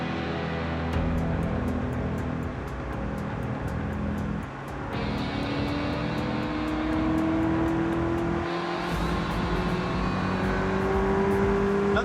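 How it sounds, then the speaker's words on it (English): A classic Ferrari engine drones steadily on a test drive, rising in pitch through the gears with a smooth, continuous sustained note, recorded close from the cabin with no talking. "Nothing sounds like a Ferrari"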